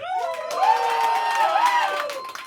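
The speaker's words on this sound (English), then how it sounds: "Now let's hear it for Alvarez." A comedy-competition crowd cheers for a comedian during an applause vote, with long rising and falling shouts and whoops dominating over light clapping throughout.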